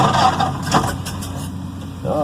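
A 1931 Ford Model A engine turns over on its starter with a choppy, uneven churn, loud and close, the cranking rhythm briefly picking up near the end.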